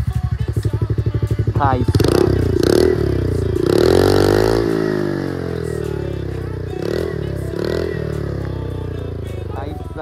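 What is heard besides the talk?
TVS Ntorq 125 scooter stock exhaust sound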